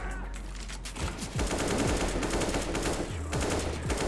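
Rapid gunfire in the video game CS:GO comes as bursts of sharp shots that overlap densely for several seconds. Loud and continuous, with barely any pause between volleys.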